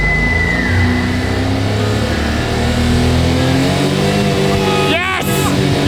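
A homemade mini truck built for abandoned railroads, its weak-sounding engine running and revving loudly, with a rising whine and a sharp mechanical burst near the end, close by under excited voices.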